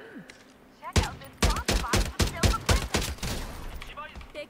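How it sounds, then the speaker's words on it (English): Gunfire in the Farlight 84 battle royale game, a rapid string of about ten loud, sharp shots in quick succession, close and punchy, followed by fading echoes. "That last shot was a no scope."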